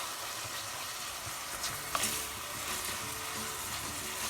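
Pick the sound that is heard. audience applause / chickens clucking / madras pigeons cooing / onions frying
onions frying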